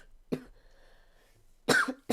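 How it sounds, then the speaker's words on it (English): Two separate coughs, close and fairly quiet, spaced about a second and a half apart, with near silence between them apart from a faint background tone. "So close going through this without coughing."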